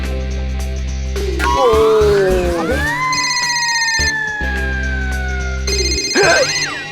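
An electronic phone ringtone plays a sliding, siren-like melody that repeats, loud and close, with no one speaking.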